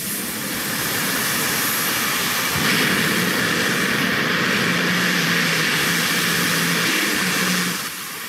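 A radio-controlled afterburner jet plane at an RC meeting in Tarp roars loudly and steadily as it flies nearby, its engine whine and rushing noise swelling slightly midway before easing off.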